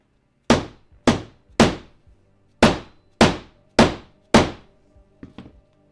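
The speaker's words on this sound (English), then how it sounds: "I'm gonna hammer the shit out of this and see what happens to it." Seven sharp, heavy hammer blows on leather land at an uneven pace, each ringing briefly before fading, followed by two lighter taps at the end.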